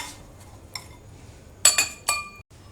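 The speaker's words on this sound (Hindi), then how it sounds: "चम्मच से हम सर्विंग ग्लास में बर्फ़ को डालेंगे।" A spoon clinks against a serving glass while shaved ice for a gola ice dessert is spooned in, a few sharp, bright taps clustered near the end over a quiet background.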